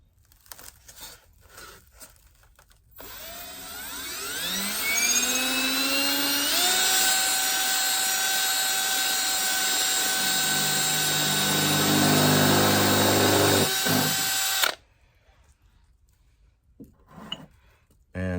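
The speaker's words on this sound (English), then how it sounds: "I put the pot upside down and I'll center the hole and I'll start to drill." A power drill with a hole-cutting blade bores through the bottom of an upside-down decorative plant pot, a loud whining, grinding hum that rises in pitch and runs steadily for about twelve seconds before stopping.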